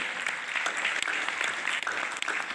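Sustained applause from an audience at the senior grand final of a Pakistani quiz competition, dense and steady clapping with no gaps.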